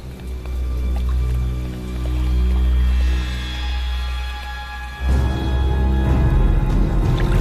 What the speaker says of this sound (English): I use the vibration I make with my hands in the water to communicate with him.